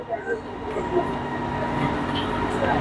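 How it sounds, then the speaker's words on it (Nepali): A train pulling away in Malaysia, heading toward KLCC, gives a steady low rumble with a faint rising hum, and people talk nearby over the continuous rail noise. "ट्रेन खरारा हिँडिसक्यो।"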